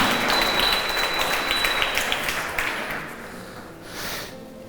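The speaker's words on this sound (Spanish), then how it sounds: "Dale un fuerte aplauso al Señor para despertarnos" Congregation applause during a Spanish-language church sermon, a burst of clapping that is strongest at first and then thins and fades over a few seconds.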